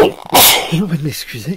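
A single loud sneeze bursts out near the start, followed by someone speaking French.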